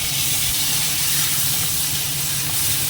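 Fish sizzles in hot oil in a pan with sugar and green chillies, a loud steady frying hiss that runs on unbroken with no voices.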